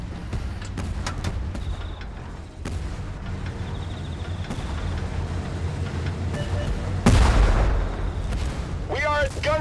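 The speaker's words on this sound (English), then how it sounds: "Bombardment!" Tank bombardment in the video game Tank Force: rumbling artillery blasts and scattered shots over continuous battle noise, with one heavy, close explosion near the end and voices talking underneath.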